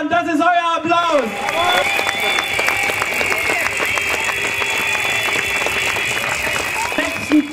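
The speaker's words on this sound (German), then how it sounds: "das ist euer Applaus" A crowd at an outdoor energy transition rally in a public square breaks into sustained applause and cheering after a brief spoken line, with dense clapping holding steady to the end.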